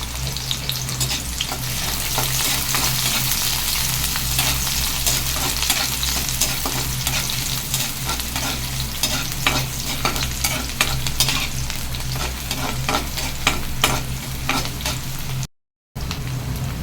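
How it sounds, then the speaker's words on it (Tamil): Small shallots sauté in a pan with a continuous close sizzle and frequent scraping stirs, a busy crackling texture that cuts out briefly near the end. "வெங்காயம் நல்லா வதங்கிடுச்சு"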